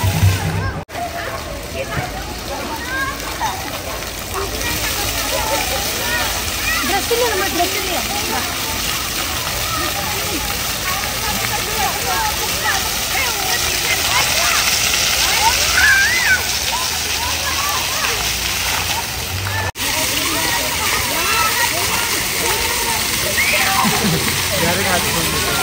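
Water splashes and sloshes steadily in a park fountain at NaMo Grand Central Park, Thane, a continuous broadband wash with a child nearby, fairly loud throughout.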